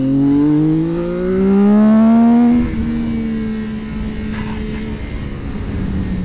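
CFMoto 675 SR-R three-cylinder sport motorcycle on the road, its engine revving with a rising whine through the gears, then dropping to a rougher, steadier drone with wind noise as it holds speed.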